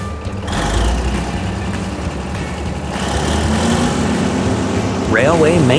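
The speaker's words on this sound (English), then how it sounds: "Concrete pump truck." A concrete pump truck runs with a steady, loud diesel engine drone and hydraulic whine, and a warbling beep sweeps in near the end.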